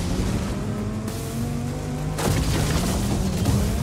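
In a Warhammer 40,000 racing game, bursts of gunfire strike from behind over a constant engine drone, with a harsher cluster of booms erupting about halfway through and carrying on to the end.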